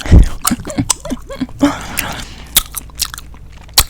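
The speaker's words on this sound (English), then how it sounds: "A long time since I gave y'all this gum smack-a-lackin'." Gum chewing is close and crisp, with wet smacks and clicks repeating in an irregular rhythm and a louder burst at the start.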